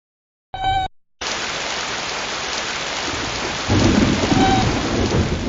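A short crack of thunder gives way to a steady, loud rush of rainfall, with a deeper rumble of thunder rolling in under the rain toward the end.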